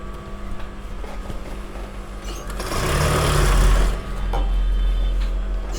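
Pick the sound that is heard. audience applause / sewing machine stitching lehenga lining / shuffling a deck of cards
sewing machine stitching lehenga lining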